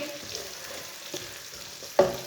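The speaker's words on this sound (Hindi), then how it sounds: "बारीक कटे हुए केले डाल लेंगे। केले को भी 2 मिनट तक भून लेंगे।" Finely chopped raw banana frying in a pan of oil with garlic, a steady soft sizzle throughout and one sharper clatter near the end as the pieces are stirred.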